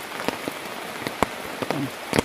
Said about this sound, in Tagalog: maulan pa talaga guys